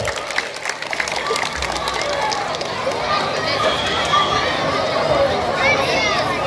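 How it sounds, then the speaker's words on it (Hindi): At a school annual function, a large audience claps continuously for the children amid cheering and crowd chatter, a dense, sustained wash of applause with voices mixed in. "सब अपने अपने बच्चे के लिए ताली बजाइए"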